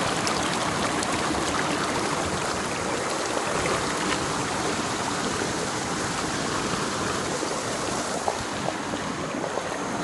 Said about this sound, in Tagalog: So ayan yung ilog dito guys.